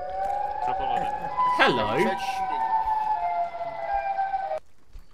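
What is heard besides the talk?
air raid siren in the video game Arma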